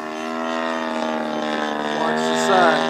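A Carbon Cub RC model airplane engine holds at high throttle with a steady, loud buzzing drone, its pitch rising and wavering slightly near the end.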